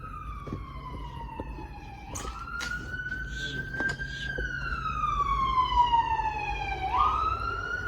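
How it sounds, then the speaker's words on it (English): Ambulance siren wailing outside an abandoned pub in Birkenhead, its pitch rising and falling steadily as the vehicle passes, growing louder toward the end over a low street rumble. "Oh, just an ambulance."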